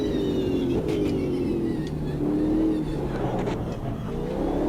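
Race car in the Automobilista 2 racing game braking hard into a corner, engine droning loud and steady with tonal whine shifting down, with brief thuds from hitting a curb.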